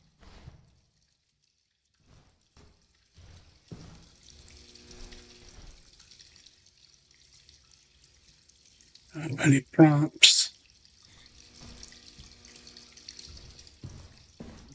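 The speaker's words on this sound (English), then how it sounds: "Leaky water." Leaky water in a haunted-building video game, heard as a short burst of running, dripping water about two seconds long in the middle, with a person talking quietly before and after it.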